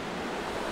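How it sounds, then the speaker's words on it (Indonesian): River water flows in a steady, even rush, a continuous broadband wash of moderate loudness with no other sounds standing out. "Sungai."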